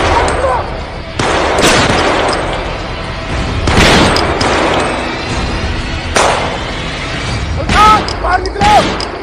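Loud, close gunshots ring out in a dramatized police shootout, several sharp reports spaced a second or two apart, with shouting voices breaking in near the end.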